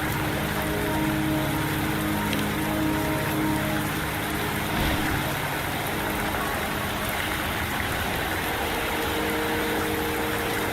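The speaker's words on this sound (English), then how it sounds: "Don't worry, the rain won't last much longer." Steady rain falls through a mountain scene in the video game Wuthering Waves, a continuous broadband hiss with low hum beneath, constant and fairly loud throughout, with no talking.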